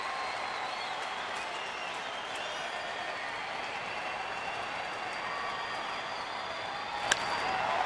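Distant crowd at a Dodgers–Astros baseball game in Houston, a steady, faint roar of applause and cheering held evenly throughout, with one sharp crack near the end.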